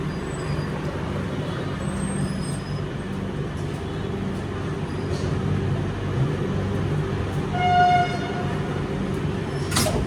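Tejas Express pulling out of Dindigul Junction: a steady low rumble and rolling hum of the moving train, heard from inside the coach, with a faint brief squeal near the end and no talk.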